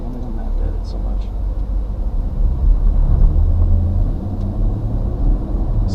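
A 2017 Porsche Macan S engine in normal driving mode gives a steady, smooth low rumble from the cabin, with road noise and a couple of faint high ticks over the drive.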